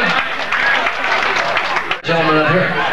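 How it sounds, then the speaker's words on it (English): Guests at a wedding applaud after the bouquet toss, a dense, steady wash of clapping and cheering from a crowd with voices mixed in, then a brief dip before talk rises over it. "give her a nice round of applause,"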